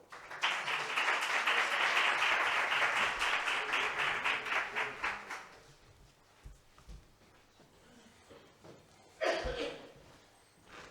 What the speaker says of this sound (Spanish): Y les pido un fuerte aplauso para ellas, por favor